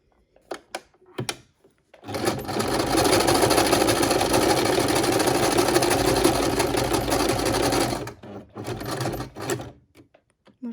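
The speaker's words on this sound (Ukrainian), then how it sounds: "Після цього я піднімаю лапку, повертаю і пришиваємо край нашої тісьми." Sewing machine stitching curtain tape onto fabric, a few light clicks and taps, then a steady close whirring run of about six seconds, followed by more handling clicks and a short burst of stitching.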